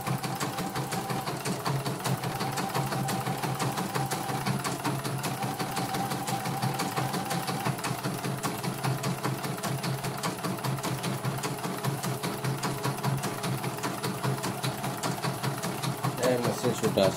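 An E900 embroidery machine runs steadily at close range, a fast continuous mechanical stitching clatter with a constant motor hum, unbroken for the whole stretch with no talk over it.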